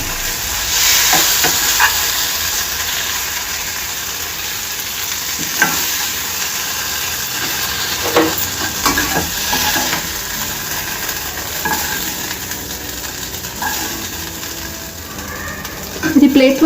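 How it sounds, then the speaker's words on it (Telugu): Cashews fry in oil in a pan for a ridge gourd kofta curry, giving a steady close sizzle with occasional stirring scrapes, and a voice talks now and then over the cooking. "కాజులు కూడా వేసి మగ్గించుకోవాలి. చూడండి ఇలా వేగాలండి."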